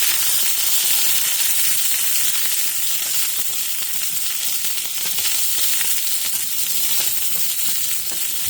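Arbol and smoked Morita chili peppers frying with garlic in a pan, giving a steady, dense sizzle that holds close and even throughout, with no voices.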